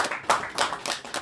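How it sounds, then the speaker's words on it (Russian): Sparse hand clapping from a small group at a Tatar activists' gathering at the coordination centre headquarters, a few bursts of claps rising and falling over a short moment, fairly close. "Аплодисменты можно было"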